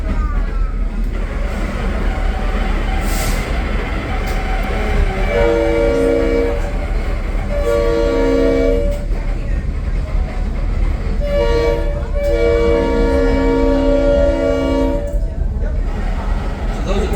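A DL&W tour train's horn sounds in repeated long blasts over the steady rumble and clatter of moving railcars, loud and close, with voices talking throughout.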